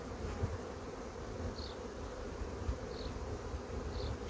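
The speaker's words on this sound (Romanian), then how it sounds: "multă albinuță" A wintered-over honeybee colony packed into its hive hums with a steady, dense buzz close by, a few louder individual bees flitting past now and then, with no voices.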